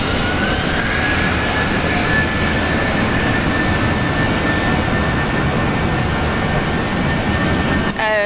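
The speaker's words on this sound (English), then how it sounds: "we've got Jetstar 759 off to Hobart with the A320" A Jetstar Airbus A320 takes off from Brisbane Airport in heavy rain, a loud, continuous jet roar with a steady whine throughout; a voice cuts in briefly at the very end.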